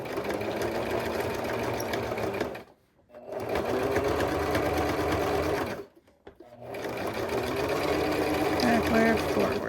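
Sewing machine stitching a bucket hat, running loud and steady in continuous mechanical bursts with two short pauses between runs.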